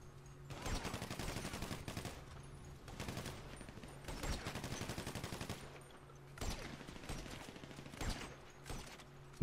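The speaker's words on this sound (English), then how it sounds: "We're both just shooting at the same guy." Sustained automatic gunfire fills a GTA Online shootout during the Pacific Standard heist, with dense rapid bursts running nearly the whole time and brief pauses between volleys and no clear speech.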